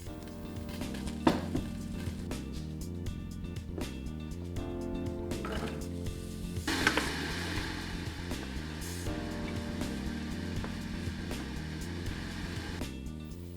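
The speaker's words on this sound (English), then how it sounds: "Add some more oil into the pan and sauté 1 finely chopped up onion." Finely chopped onion sautés in oil in a pan, giving a steady soft sizzle that runs throughout, with background music playing over it.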